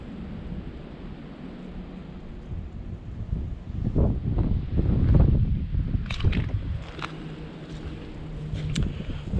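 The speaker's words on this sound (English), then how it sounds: "We are in a wind advisory today" Strong wind blowing outdoors on an advisory day, a steady low roar that swells into heavier gusts midway, with buffeting against the microphone and a few sharp knocks near the end.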